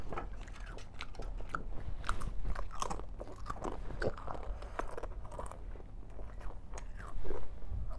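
Pringles chips, cheese flavour, crunched and chewed up close in a continuous run of crisp bites and wet mastication, loud and steady throughout with no talking.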